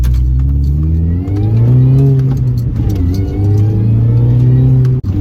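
A car engine fitted with a lightweight crankshaft pulley roars loudly up through the revs from inside the vehicle on a road, rising and easing as gears change, with a brief dip near the end.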